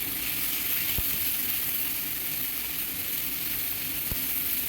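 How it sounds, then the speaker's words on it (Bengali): Tomato masala sizzling steadily in a pan while being mashed with a spatula, with two soft knocks of the spatula against the pan over a constant faint frying hiss. "এবার আমি খুন্তি দিয়ে ম্যাশ করে নিচ্ছি।"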